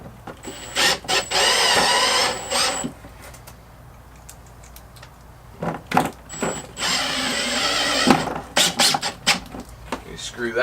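A power drill drives screws to fix an L-shaped self-closing pool gate hinge onto a flat weld plate, in two loud whirring runs with clicks and handling noises between them.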